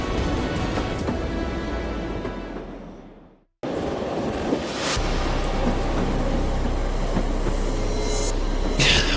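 Train in motion, a loud continuous rumble of wheels and rolling stock that cuts out abruptly after a few seconds, then resumes with heavy low rumbling and occasional high squeals.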